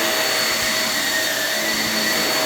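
A Shark Navigator NV22L upright vacuum cleaner runs with a steady, loud motor roar and airy suction hiss, close by and unbroken throughout, with no talking.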